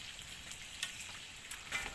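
Side dishes fry in a pan outdoors in a forest, a steady soft hiss of oil with small crackles and pops, close and fairly quiet.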